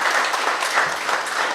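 An audience at a guard services quarterly award ceremony gives a steady round of applause, a dense wash of many hands clapping at moderate distance for over a second.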